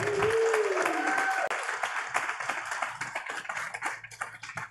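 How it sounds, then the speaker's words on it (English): A crowd claps for UTS Startups at the Deep Green Biotech Hub showcase. The applause starts loud under a voice with a sliding whistle-like tone, then thins to scattered, uneven claps that fade out. "big round of applause for UTS Startups"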